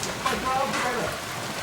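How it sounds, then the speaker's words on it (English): Steady rain falls outdoors in rural Fengqing, a soft even hiss filling the whole stretch, with faint voices mixed in. "It started to rain."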